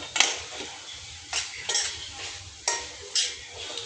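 Rajma and paneer stirred into a spiced gravy in a pan, with several scraping strokes and utensil clinks against the metal, close by, over a faint sizzle.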